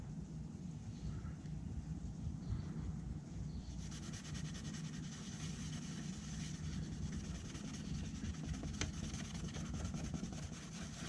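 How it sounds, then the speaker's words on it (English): Terry cloth soaked in an isopropyl alcohol mixture scrubs a car bumper under heavy pressure, a continuous rough rubbing that grows harsher and more rhythmic partway through, close and alone. "Applying pretty heavy pressure, I'd say. Going back and forth, up and down, circles."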